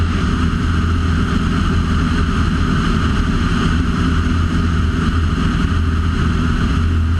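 Steady, loud engine drone fills the cabin of a small airplane in flight between Stephenville and Grand Prairie, Texas, an unbroken hum with no voices.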